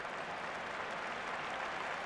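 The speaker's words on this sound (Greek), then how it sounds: "Χειροκροτείται εδώ ο Ντέμις από όλο το γήπεδο." A stadium crowd at a Greek league football match between AEK and AEL applauds a player leaving the pitch as a substitute, a steady, dense wash of clapping from the whole ground with no break.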